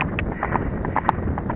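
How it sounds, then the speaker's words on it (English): A horse canters uphill, its hooves striking in a steady, repeating clip-clop rhythm that sounds fairly close, with light wind noise behind and no talk. "So he's cantering uphill again."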